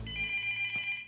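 A cartoon telephone rings, a single short electronic trill in a Garfield episode, bright and clear on its own with no talk.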